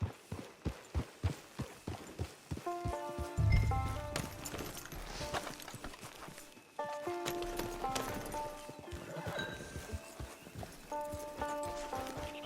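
Steady horse hooves clip-clop in a regular rhythm in the video game Red Dead Redemption 2 Online, then give way to a music-like backdrop with tonal notes, the hoofbeats fading beneath it.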